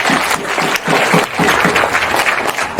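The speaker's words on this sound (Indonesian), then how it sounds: "Tepuk tangan betul semua." Audience clapping at an outdoor political campaign rally in SP1 Nabire Barat, with steady, fairly loud applause and occasional louder bursts throughout.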